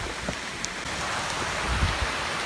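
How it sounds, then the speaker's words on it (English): Steady rain pours down on a stand of trees on a hiking trail, a dense even hiss with faint scattered drops and a low rumble, no voices. "it has officially started pouring rain"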